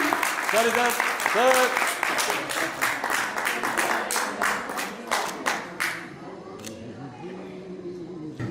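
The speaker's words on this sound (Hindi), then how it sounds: "और आप सभी आए लोगों के लिए और जोरदार तालियों से हम स्वागत करेंगे।" At an Arya Samaj Mandir gathering, a crowd gives loud applause to welcome guests, dense clapping with distinct sharp claps close by, overlapping with voices early on and thinning into scattered claps and talk near the end.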